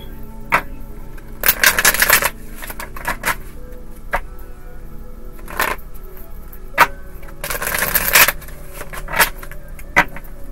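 Playing cards are shuffled in several bursts of crisp riffling, separated by quieter pauses with occasional light taps and clicks.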